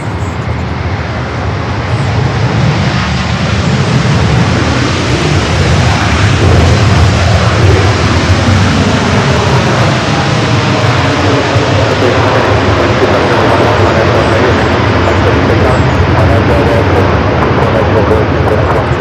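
A jet airliner departs runway 24 left at LAX, its engines a loud, sustained broad roar that builds and slowly shifts in pitch as it passes, heard from close by.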